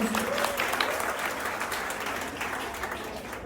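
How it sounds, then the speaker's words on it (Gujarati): A crowd at a Navratri garba gathering in Morbi gives a round of applause for the performer, a steady, fairly soft patter of many hands that eases off slightly toward the end. "સો એકવાર જોરદાર તાળીઓ થઈ જાય."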